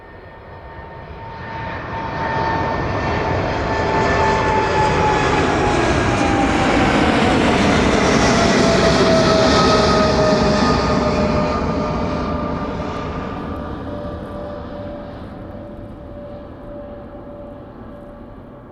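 Boeing 777 jet taking off from East Midlands Airport, a powerful engine roar swelling as it approaches, peaking loud with a shifting whine, then slowly fading into the distance, no talking.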